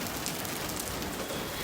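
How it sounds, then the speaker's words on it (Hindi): Steady rain pours down outside a hotel in the hills on a trip from Leh to Delhi, a dense, even hiss of drops pattering on surfaces throughout, close and continuous with no voices. "भगवान जी ने बारिश भेजी है,"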